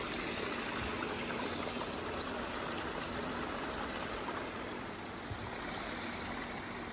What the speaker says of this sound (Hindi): ये पानी जो निकल रहा है ये आउटलेट है, ये जा रहा है जंगल में वापस।